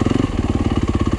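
A Yamaha YZ250 dirt bike engine rumbles in the woods with a steady, fast pulsing beat, close and fairly loud, alone without talk.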